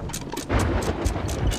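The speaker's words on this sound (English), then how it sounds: "That's a thunderstorm." Thunder rumbles through a storm in the pirate game Sea of Thieves, a loud, continuous low roar with rolling pulses and a crackling, rain-like hiss above it.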